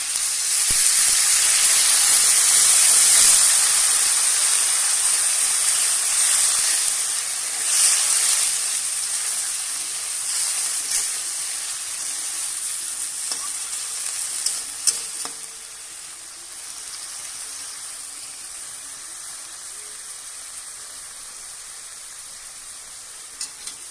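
Water hits crab and spice masala in a hot pan, setting off a loud hissing burst of steam that slowly settles into a softer, steady sizzle with occasional clinks of stirring.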